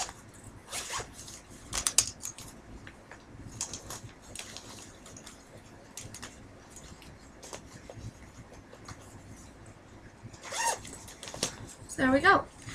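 A pencil pouch being zipped, with several quick rasping zip strokes and rustling handling of school supplies, the loudest zipping coming at the end.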